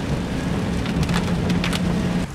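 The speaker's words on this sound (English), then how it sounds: "Wait, looks like it's starting to rain." Rain begins to fall on a commuter's route, a dense patter with crisp drops landing on surfaces and a low rumble beneath, close and steady.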